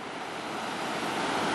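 Ocean surf washing onto the beach at Ky Co, Quy Nhon, a dense, even roar of breaking waves mixed with wind buffeting the microphone, growing slightly louder over a short stretch.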